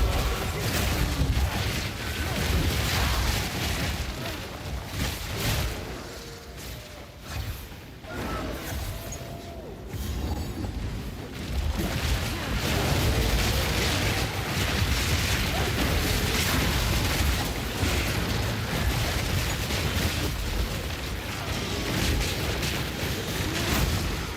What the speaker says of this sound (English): I love the explosions. Chain explosions is fun.